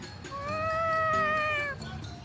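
A cat meows in the video game Tales of Xillia 2, a single drawn-out, tonal call that rises and holds steadily for over a second before fading, heard close and clear with faint background sound.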